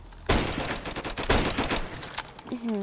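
Rapid gunfire in the Roblox team shooter Flag Wars, a burst of several sharp shots up close followed by scattered quieter pops and brief sound effects, with no talking.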